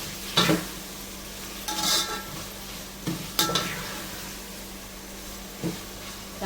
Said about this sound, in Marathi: आपण मस्त परतून घ्यायचं आहे टॅमॅटो